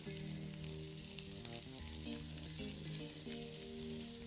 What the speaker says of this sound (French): La poêle est chaude. On dépose.